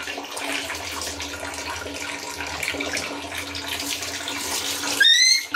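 Water runs steadily from a tap while a puppy is bathed, a continuous splashing flow that ends in a brief squeaky sound.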